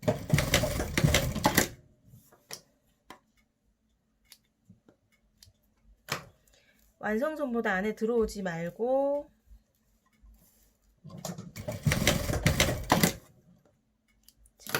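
A sewing machine runs in short bursts of rapid stitching while tack-stitching a shorts pocket in place near the side seam, loud and close, with someone talking between runs.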